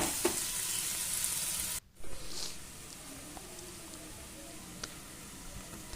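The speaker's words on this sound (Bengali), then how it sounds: "এবার আমি দিয়ে দেবো এই পেঁয়াজের মধ্যে আদা বাটা আর একটু রসুন বাটা।" Ginger and garlic paste frying in a pan of onions, a continuous close sizzle that breaks off briefly before settling back into a softer, even hiss.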